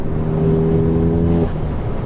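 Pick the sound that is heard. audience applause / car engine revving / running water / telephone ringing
car engine revving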